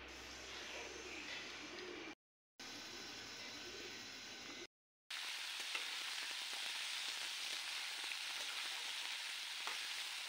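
Steady crackling sizzle of vegetables frying in a pan, continuous and fairly loud, broken by two brief silent gaps.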